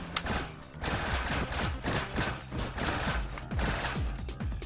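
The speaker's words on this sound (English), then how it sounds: "got some cannons with some little mini thrusters there to counter the recoil" Robot-mounted cannons with small thrusters to counter recoil fire in the video game Trailmakers: a dense, loud barrage of rapid booming shots that overlap continuously with mechanical clatter.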